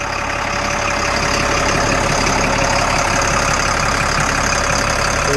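LMTV M1078A1 military truck with an intercooled turbocharged engine idling after a cold start, a steady, loud, close diesel drone with a constant whine on top, even throughout.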